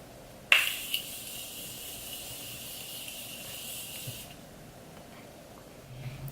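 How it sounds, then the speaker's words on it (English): A Morphe Continuous Setting Mist bottle sprays onto a face in one long, even hiss lasting nearly four seconds after a sharp pump click, close and fairly loud, then stops. "So I'm gonna use the Morphe Continuous Setting Mist first."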